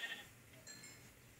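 A video-game sheep gives a single short, faint bleat against a quiet background.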